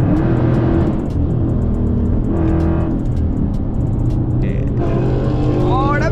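A Toyota Supra engine revs loudly in sport mode at a car meet, with repeated throttle blips and deep exhaust roar close by, plus other car engines in the background.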